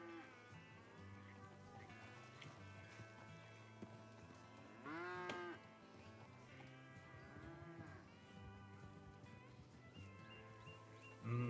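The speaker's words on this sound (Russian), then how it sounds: "корова прибежала" A video game cow lows repeatedly in a Wild West roleplay setting, with several drawn-out, wavering moos close by over a steady background hum and game ambience.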